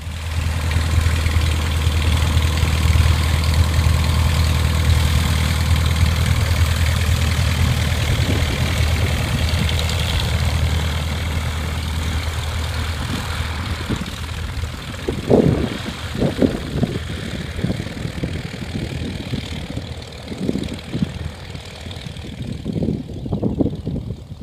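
Aerobatic propeller airplane at an aerobatic flying championship, its engine idling with a steady droning hum, then revving up unevenly in pulsing bursts as it begins to take off, fairly close and loud with no talk.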